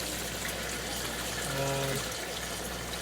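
Water trickles steadily over a small bale of barley straw in a green-tinged pond, a soft continuous flow with a brief low tonal hum in the middle.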